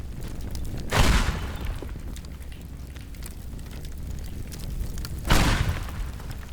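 Two deep booming blasts from a tank exploding in the game Teardown, one near the start and another about four seconds later, each with a low rumbling tail over steady background noise.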